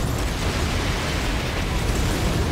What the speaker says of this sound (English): I shall send in my personal gunship attack squadron. Fire! Fire!